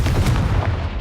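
A Confringo fire spell explodes in the video game Hogwarts Legacy, a loud booming blast with dense low rumble that swells and holds across the whole second, no talking over it.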